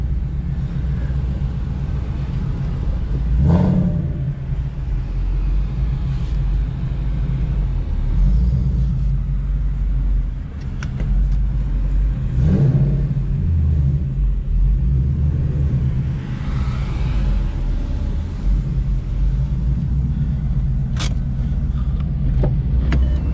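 A Ford Mustang 5.0 with a newly installed built transmission moves under its own power, giving a steady loud low rumble that swells slightly in a few places, close by with no talk.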